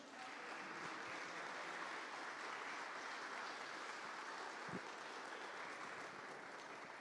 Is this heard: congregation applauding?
yes